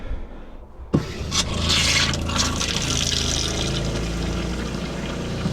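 A Winnebago Solis 59PX galley faucet is switched on after a sharp click and runs pink antifreeze in a steady, close pour with splashing into the sink, no talk.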